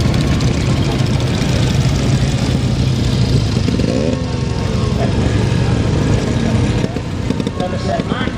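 A vintage Somerset-registered 350cc motorcycle with a fishtail silencer runs at a steam fair, its loud low engine rumble continuous and close, with crowd and commentary noise mixed underneath.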